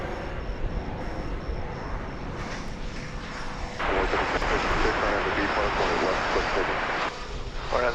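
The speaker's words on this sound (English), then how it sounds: "This will be an Airbus A319." An Airbus A319 jet at DFW Airport gives off a steady engine roar that swells louder about halfway through and holds, heard at a distance under radio chatter.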